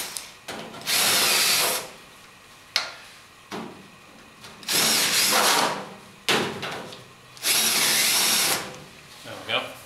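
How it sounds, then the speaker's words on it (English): A countersink bit in a power drill deburrs drilled holes in metal, with several loud whirring bursts of a few seconds each separated by pauses, close up and with clicks between. "I'm just gonna hit these real quick with a little countersink just to get the burr off of those"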